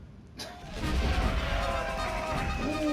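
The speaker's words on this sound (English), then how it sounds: "Bombs coming in." Bombs exploding in the Valiant Hearts video game, a sudden booming blast that swells into a loud sustained rumble close by, with a voice talking over it.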